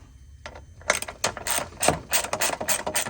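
A ratchet and socket remove the solenoid cover on an EZGO TXT gas golf cart, giving a burst of quick, sharp clicking strokes after a couple of isolated ticks, close and loud, with no talking.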